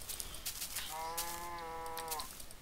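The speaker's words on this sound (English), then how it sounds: "Cows!" A single drawn-out cow moo from Minecraft alpha rises and holds for over a second, clear and near, with faint game ambience around it and no talk.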